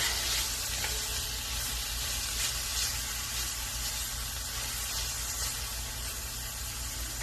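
Tomatoes sautéing in a pan for shrimp tetrazzini give off a steady, even sizzle and hiss that holds at a constant level throughout, with no talking.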